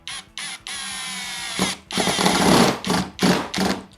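A drill driver fitted with a PZ2 bit slips on a PH screw, giving a series of loud, harsh ratcheting bursts. The bursts come in short stop-start runs with brief pauses between them.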